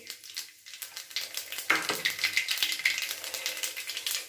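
Nigella seeds, onion and green chili hit hot oil in a karahi. A quieter crackle at first jumps to a loud, dense sizzle partway through, then continues with pulsing, rhythmic spatters.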